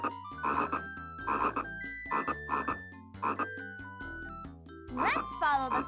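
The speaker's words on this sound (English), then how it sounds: "The frog is showing us the way!" A cartoon frog croaks in a series of loud, bouncy calls over a bright musical score in a children's adventure show, repeating roughly every second close up.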